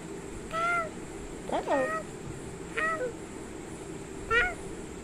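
A child imitates a cat, giving several short high meows spaced a second or so apart, close and clear over a low room hum, voicing the cat sound when asked.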